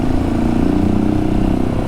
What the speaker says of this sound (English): This one sounds a lot deeper and throatier with this muffler.